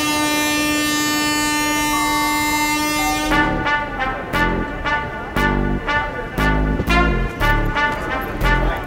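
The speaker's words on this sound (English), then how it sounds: "Dude, that train is going to Tanjavur." A train headed to Tanjavur sounds a long, loud, steady horn, then the horn gives way to a rhythmic clatter of wheels over rail joints, close and continuous.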